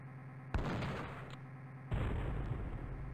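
Two heavy booming gun blasts from warships in the submarine game Aces of the Deep, each a sudden loud report followed by a long rumbling decay, about one and a half seconds apart.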